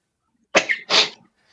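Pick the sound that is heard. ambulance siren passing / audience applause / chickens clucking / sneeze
sneeze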